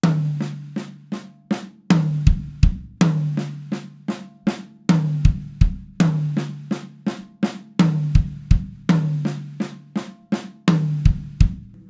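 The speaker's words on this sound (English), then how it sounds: "But then we're gonna take those accents and put them on the first tom." A drum fill repeats in a steady loop: quick snare strokes, accents moved onto the first tom, and two kick drum thumps closing each phrase. It is played alone, close and clear, for about a dozen seconds.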